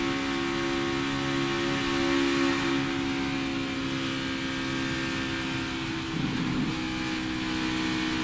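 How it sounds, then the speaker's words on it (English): NASCAR Xfinity Series race car at the Indianapolis Motor Speedway, its engine droning steadily at high throttle through a corner, with a brief dip and change in tone near the end as the throttle lifts. "Listen into the throttle as he drives this corner."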